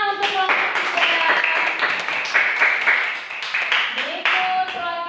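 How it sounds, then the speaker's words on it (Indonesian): Classroom applause for a student group during a school teaching-practice session: a steady patter of many hands clapping for about five seconds, with voices talking and calling out over it. "Ya, tepuk tangan untuk kelompok 3"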